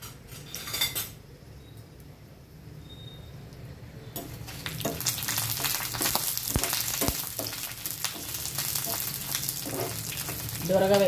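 Garlic and dried red chillies frying in a little oil in a pan give a steady sizzle, with metal utensil clinks and stirring scrapes, loud and close with no talking.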